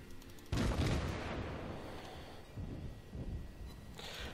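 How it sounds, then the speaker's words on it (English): Ship's guns firing in the naval video game World of Warships: a loud booming salvo at the start, followed by rumbling echoes and softer follow-up blasts that fade over a few seconds. "So right now I can fire both of my guns"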